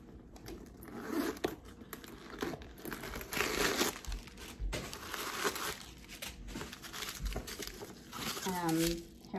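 Packing paper stuffed inside a Coach crossbody bag of canvas and smooth leather crinkles and rustles up close in a steady, busy stream of crumpling noise.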